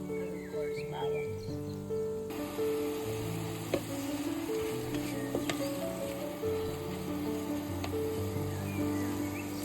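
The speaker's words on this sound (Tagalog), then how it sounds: "Igisa pa natin sa tomato and luya and of course bawang." Tomato, ginger and garlic sautéing in a pan for pinakbet, a continuous moderate sizzle with occasional light clicks of a spatula, while steady tonal background hum and faint chirps sit underneath.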